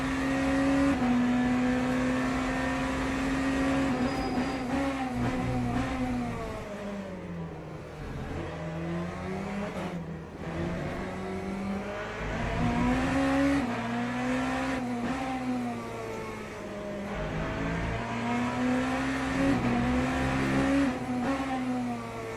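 Hypercar race cars, BMWs and Ferraris, launch at the race start of the 6 Hours of Fuji in Le Mans Ultimate. A dense, loud chorus of engines revs and climbs through gear changes, continuous and close, with no voices.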